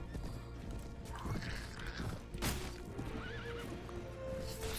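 Horses gallop with thudding hooves while several whinnies ring out, including a wavering neigh, over a busy battle din during a cavalry charge in the video game Mount & Blade: Warband.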